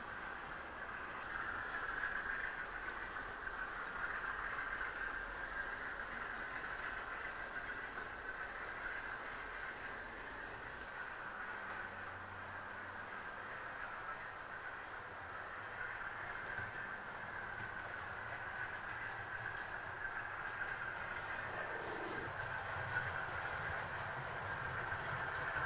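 A Class 50 model railway train runs steadily up a helix on a layout, a continuous whirring motor hum with faint rail clicks, fairly quiet and unbroken throughout.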